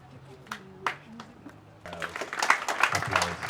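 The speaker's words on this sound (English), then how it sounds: "Applause for his espousing of these issues." An audience at a political party event breaks into applause, starting with a few scattered claps and swelling into sustained clapping from a crowd, with a voice briefly heard at the start.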